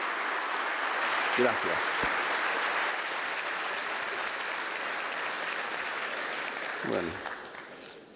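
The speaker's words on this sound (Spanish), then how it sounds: "con un fuerte aplauso recibimos a Breogán" Audience at a GeneXus keynote event applauding a speaker's arrival, sustained even clapping filling the hall, with someone speaking briefly over it near the start and again as it tapers off.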